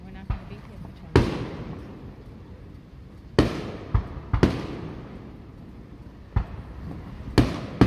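Fireworks for the Fourth of July bursting outdoors, a string of sharp booms and cracks spaced a second or two apart, some doubled, echoing briefly over low ambient noise and faint talk.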